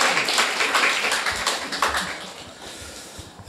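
A church congregation at a winter retreat service applauds together for a reader, a dense, steady patter of many hands that gradually thins and fades over a few seconds.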